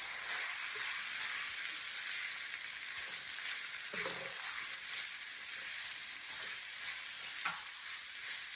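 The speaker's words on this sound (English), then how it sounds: "We're going to cook this for about 5 to 7 minutes until they are a little wilted and soft." Roughly chopped onions fry in a pan with a steady, dense sizzle throughout, close and even, with occasional soft stirring scrapes breaking through.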